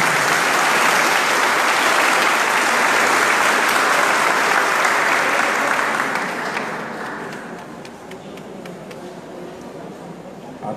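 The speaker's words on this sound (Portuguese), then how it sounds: "A ele, a nossa forte salva de palmas" Loud, dense applause from a congregation at a Catholic Mass honoring a visiting priest, sustained for several seconds and then thinning out to scattered claps near the end.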